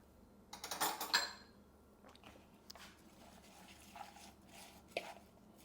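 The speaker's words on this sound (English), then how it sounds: "I'm gonna just go ahead and stir all of that up" A spoon stirs food in a bowl with a brief burst of clattering scrapes, then softer, scattered scrapes and taps at close range.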